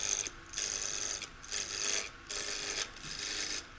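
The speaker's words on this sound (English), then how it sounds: "What I do here, I take really light cuts with my parting tool." Light cuts with a parting tool on a wood lathe while turning a small lantern ornament, heard as four rasping scrapes of about half a second to a second each, separated by short pauses, close and fairly quiet.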